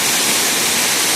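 Water pouring in a park water feature, a loud, dense, continuous hiss and splash up close.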